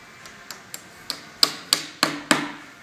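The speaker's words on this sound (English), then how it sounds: "nail it at the bottom." A hammer drives a nail into a vinyl post wrap, about eight sharp taps that grow louder and more evenly spaced, close and clear with no talking.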